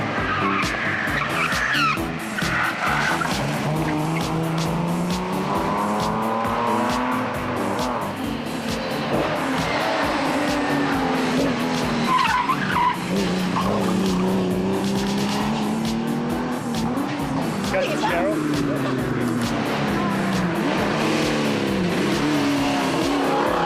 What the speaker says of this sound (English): Add to this the after effects of competition cars rounding it at high speeds